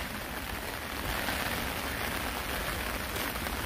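Steady rain falls on surfaces in South Korea, with a dense, even hiss that holds at a constant level and has no breaks. It is close and moderately loud, and no one speaks over it.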